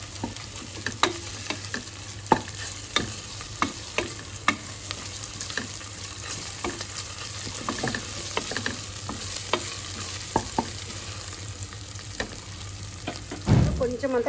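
Onion and fenugreek leaves frying in a pan, a continuous close sizzle broken by repeated spatula scrapes and stirring clicks throughout, with no talking.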